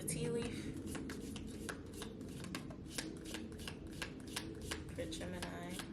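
Tarot cards being shuffled close up, a rapid run of crisp riffling flicks, with a voice talking quietly in the background.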